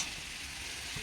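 Ridge gourd is sautéed in a pan, giving a brief, steady, moderately quiet sizzle with a faint stir, heard alone.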